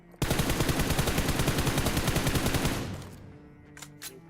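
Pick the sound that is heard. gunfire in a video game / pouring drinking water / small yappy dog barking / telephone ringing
gunfire in a video game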